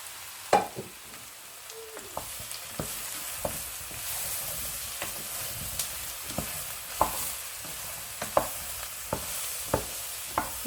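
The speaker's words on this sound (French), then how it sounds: "Donc on les fait revenir comme ça à feu très vif" Mushrooms sautéing over very high heat in a pan, with a steady sizzle and frying crackle throughout, broken by repeated sharp stirring scrapes and taps of a utensil against the pan, close and fairly loud.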